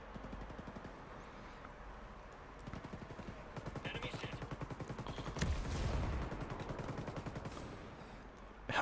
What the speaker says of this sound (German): Er ballert einfach aus der Hüfte mit einem MG.